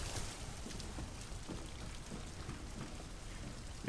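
Steady rain falls in the game Detroit: Become Human, a dense, even hiss of drops on surfaces with a soft low rumble beneath, continuous and close throughout, no voices over it.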